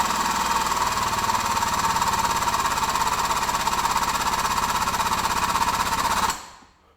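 Hand pump working the John Deere 2030 hydraulic lift cylinder, a close, steady rapid mechanical rattle and chug that runs evenly before cutting off abruptly near the end.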